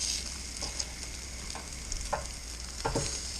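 Onions frying in a pan at a camp cookout after a spring bear hunt in British Columbia, a steady quiet sizzle with occasional sharper pops and crackles, no voices.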